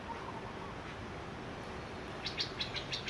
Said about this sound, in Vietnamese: nó tiếng chim hót à